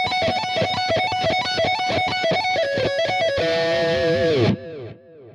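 A distorted electric guitar plays a fast, repetitive lick from a song's solo, with rapid picked notes cycling in a tight pattern, then a bent, wavering final note that rings out and fades.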